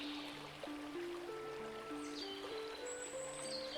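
A river flows beside flowers at dusk, its soft, steady watery trickle low and continuous throughout, with faint thin tones drifting above.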